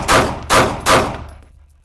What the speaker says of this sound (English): let's fire a few rounds just to warm up